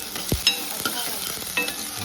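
Curry leaves sizzling in hot oil in a pan, with scraping stirs and soft crackles over a steady frying hiss, close and moderately quiet, no talking.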